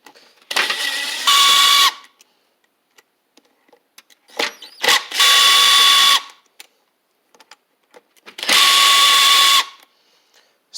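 Cordless power drill backing out the top screws on a Huskee Supreme 50-inch riding mower with a Briggs V-twin, three loud close bursts of whirring, each rising in pitch as the motor spins up, separated by short pauses with faint handling clicks.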